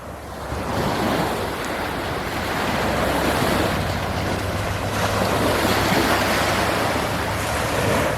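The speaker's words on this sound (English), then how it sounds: "I highly recommend this beautiful beach." Ocean surf rolls steadily onto a sandy beach at Biloxi on the Gulf of Mexico, a continuous broad wash of breaking waves with wind buffeting the microphone, no voices.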